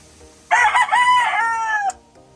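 A single rooster crows at a backyard breeder, one loud close call of about a second and a half that rises and then trails off, alone against quiet surroundings.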